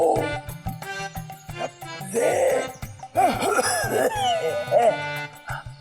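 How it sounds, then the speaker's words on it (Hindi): Several harsh coughs from a person who has had a cough for ten days, close and loud, mixed with music and speech. "आपको कब से खांसी है?"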